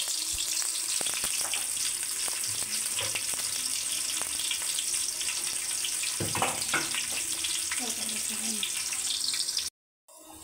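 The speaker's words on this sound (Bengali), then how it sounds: "তেল গরম হয়ে গেছে, পেঁয়াজ দিয়ে দিল, কটা কাঁচামরিচ দিয়ে দিল, এখন সুন্দর মতো ভেজে নেবে।" Chopped onions and green chillies fry in hot oil with a steady, close sizzle, broken by occasional light clinks of a utensil, before the sound cuts off briefly near the end.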